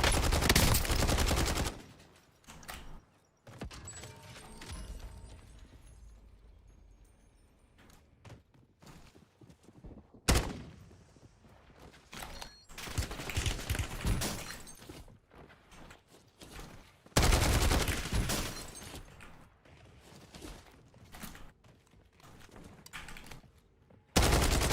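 A CR-56 rifle fires in a video game, with several separate bursts of rapid gunfire broken by quieter stretches of footsteps and movement. The shots are moderately loud and sharp against the low background.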